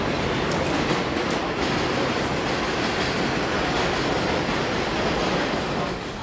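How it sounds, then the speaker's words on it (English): A subway train rumbles past continuously and loud for the whole stretch, a steady roar with faint wheel clatter and a brief high squeal near the end. "I'm still flabbergasted by this train."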